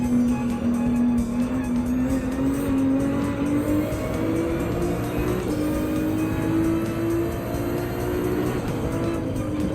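A race car in Gran Turismo 7 at Deep Forest Raceway drones at a loud, sustained engine note that climbs steadily through the gears with brief dips at shifts, constant and close with no talk.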